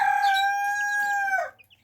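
A young Serama or Silkie chick about two months old gives a single clear, loud, drawn-out peeping call lasting over a second, then fades to near silence.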